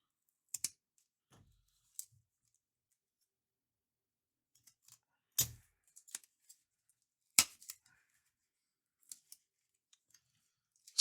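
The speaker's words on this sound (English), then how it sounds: "So let's cut this open. Cardboard around them." Scissors snip through cardboard wrapping on a sports card mail package in a quiet room, a few sparse, sharp cuts and clicks with long silent gaps between them.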